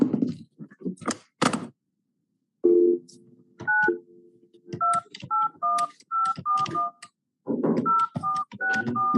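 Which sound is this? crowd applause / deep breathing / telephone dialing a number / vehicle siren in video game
telephone dialing a number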